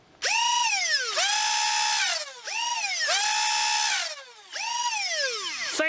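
The flywheel motors of a Dessert Pigeon MK8 foam blaster spin up three times in a row, each rev a loud rising whine that holds steady for about a second and then winds down before the next.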